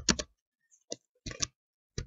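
Laptop keys are tapped in short clicky bursts, a few sharp keystrokes in irregular clusters separated by silence, close and fairly quiet with no talking.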